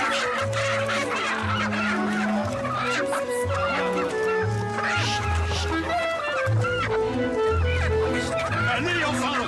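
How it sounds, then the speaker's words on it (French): Chickens clucking and squawking in a busy flock, with short repeated calls overlapping throughout at close range, while people's voices mix in underneath. "sont des poules et des œufs"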